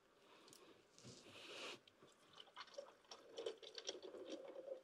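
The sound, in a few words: sparkling water poured into a cocktail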